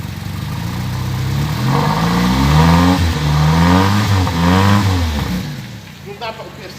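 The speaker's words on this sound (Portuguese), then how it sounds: "Sérgio, dá só uma pequena aceleradinha, se você quiser, pequena" A Ford Corcel II car engine on a cold day is revved in a few rising and falling swells from idle, loud and close, with a voice speaking over it.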